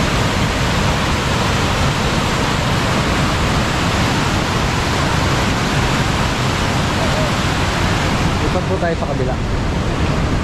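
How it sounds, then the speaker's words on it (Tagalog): Strong water rushes through Dadong Dam at San Juan Baño, Arayat, Pampanga, a loud, unbroken roar of churning flow close by, with someone speaking briefly over it near the end. "makikita natin napakalakas pa rin ang agos ng tubig"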